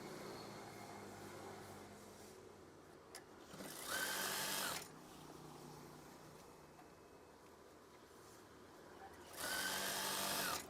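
A sewing machine stitches a curtain in two short whirring runs of about a second each, over a low room hum with quieter pauses between.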